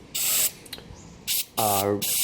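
Carb cleaner sprayed through the turbo oil feed line of a YD25 Pathfinder during a high-flow turbo install, in several loud, close hissing bursts of uneven length, with a short spoken remark between sprays.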